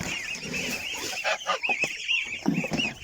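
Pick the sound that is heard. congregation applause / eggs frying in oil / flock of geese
flock of geese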